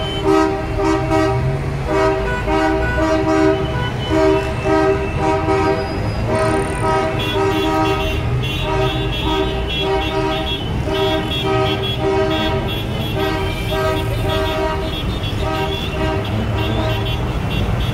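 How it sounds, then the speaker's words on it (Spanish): Football fans crowd the streets of Quetzaltenango for Xelajú, and loud horns toot almost continuously in layered, blaring blasts over a dense crowd and traffic din. "increíble la porra que lleva el cuadro de los Superchivos"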